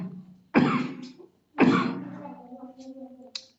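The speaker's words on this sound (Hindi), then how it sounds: "थोड़ा सा खांसी हो रही है" A male teacher coughs twice in quick bursts, each followed by a rough throat clearing, close to the microphone in an otherwise quiet room.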